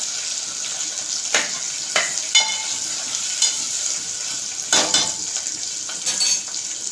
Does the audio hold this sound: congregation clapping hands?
no